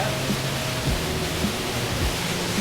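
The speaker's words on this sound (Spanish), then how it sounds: "Mirad con qué potencia baja el agua aquí" Small waterfall cascading in a mountain gorge in Asturias, a steady loud rush of water with a constant broadband roar and no break throughout.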